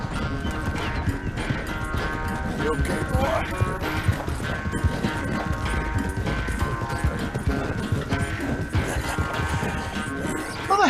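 A horse's hooves clop and a whinny sounds in the Red Dead Redemption 2 game, with busy rhythmic hoofbeats and thuds running throughout, under a man's brief spoken remark.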